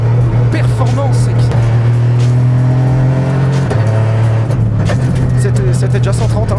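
A Peugeot 208 Rallye road car accelerating hard from inside the cabin, engine droning steadily and stepping through gear changes, while people talk over it.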